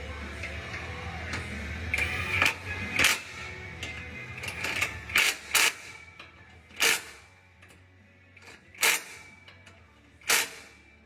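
A wrench tightens the deer guard bolts on a 2025 Toyota Tacoma, giving quiet, irregular metallic clicks and short ratcheting bursts separated by brief pauses, with no speech.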